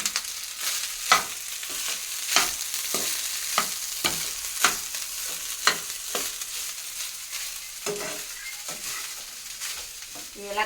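Food frying in a pan gives a steady, close sizzle, broken about every second by sharp stirring knocks and scrapes. No one speaks.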